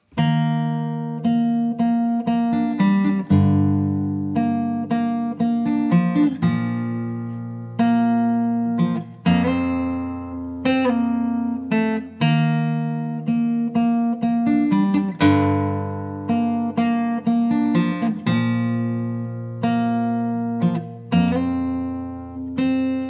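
A guitar plays the steady, repeating intro pattern of a song, plucked notes over a low bass line, clear and close with no voices.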